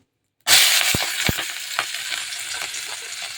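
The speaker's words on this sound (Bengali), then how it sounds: "পেঁয়াজগুলোকে ভালো করে একটু ভেজে নিচ্ছি" Chopped onions hit hot oil in a pan with a sudden loud sizzle, tossed in over cumin seeds and bay leaf, then crackle and fry steadily up close with a few spoon knocks and no talking.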